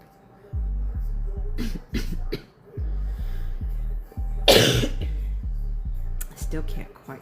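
A person coughs repeatedly in short, harsh bursts close to the microphone, with one louder, sharper cough partway through.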